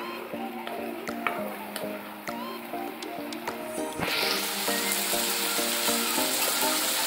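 Food frying in a pan during home cooking, a steady sizzle that swells suddenly halfway through into a louder, broad hiss as more goes into the hot oil, with no talk over it.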